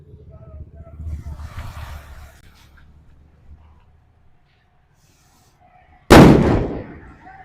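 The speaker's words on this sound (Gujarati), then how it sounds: "તો જો મિત્રો નાજી બોમ્બનો અવાજ સરસ મજાનો આવ્યો છે." A Diwali firecracker bomb goes off with a single sharp, loud blast near the end, decaying quickly, after a stretch of low rumbling handling noise and near silence.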